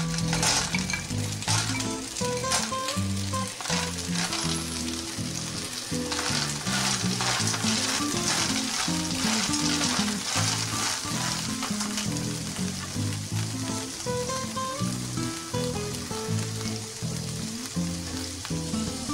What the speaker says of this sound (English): Now, you can add the periwinkle and cook it in 3 minutes.